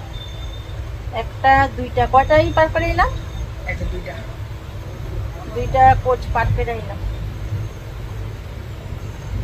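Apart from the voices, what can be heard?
inside a moving passenger train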